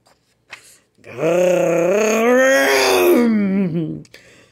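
A voice imitates a monster's growl: a long, loud, groaning wail that swells and wavers for about three seconds, preceded by a faint breath.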